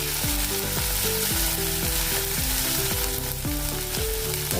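Ground spice masala, pounded in a mortar, frying in a pan after mustard seeds and cumin have crackled, giving a loud continuous sizzle close by while a repeating musical tone plays underneath, no speech.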